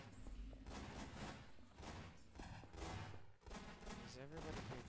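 Dense bursts of shotgun fire in a video game, loud and close, clustered into rapid overlapping blasts across the whole stretch, with a voice talking at times underneath.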